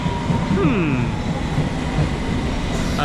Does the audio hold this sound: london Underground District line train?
yes